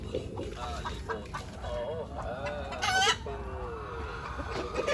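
Chickens cluck and murmur close by in a backyard coop at morning egg-collecting time, with a rooster crowing briefly partway through.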